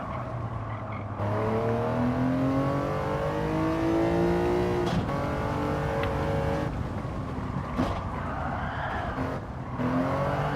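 A resto-mod car driven hard on a race track, its engine droning and shifting pitch in long sweeps while tires squeal and skid through corners, loud and close throughout.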